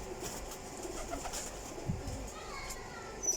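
Teddy pigeons, a Sialkoti breed kept in a loft, coo faintly at a distance against a steady background hiss, with a few soft low coos and brief chirps spread across the short stretch.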